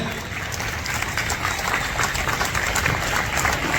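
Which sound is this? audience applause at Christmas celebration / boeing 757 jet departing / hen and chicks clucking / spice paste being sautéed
audience applause at Christmas celebration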